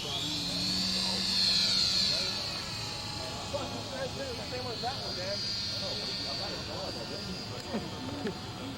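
A radio-controlled model airplane engine at full throttle during a 1996 flying session at Mission Bay, a steady loud buzzing drone that rises and falls slightly as it climbs, with voices talking over it throughout.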